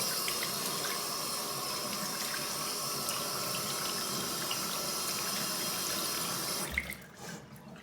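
A bathroom tap runs steadily into a sink as a face is rinsed during a morning skin-care routine, a continuous close hiss of water that stops abruptly near the end.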